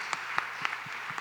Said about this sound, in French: Moi, j'ai le goût de t'applaudir